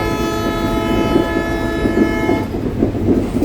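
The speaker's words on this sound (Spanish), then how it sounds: "no sé si con el segundo vagón se logra ver el vaivén del tren, que de verdad se mueve" Aboard the new Buscarril railbus on the Ramal line, a steady rumble of wheels on rails carries throughout, with a sustained horn-like tone sounding over the first part before fading out.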